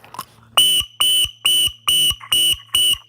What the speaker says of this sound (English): if I can just give a quick shrill whistle and cause the dog to startle